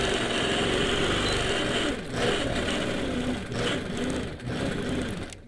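A sewing machine quilting a churn dash block runs in a steady, fast whirring stitch, loud and close, with brief dips as the fabric is turned.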